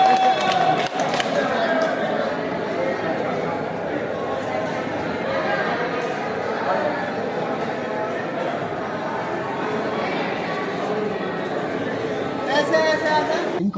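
Dense temple crowd at Shri Rang Nath Ji in Vrindavan, a steady wash of many voices with scattered clapping and cheering swells, loud and continuous throughout.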